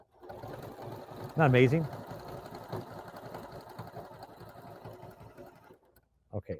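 A Janome sewing machine stitching sequins runs with a steady mechanical whir and rapid needle chatter, close and continuous, while a person speaks briefly over it. The machine stops near the end, and a couple of short knocks follow.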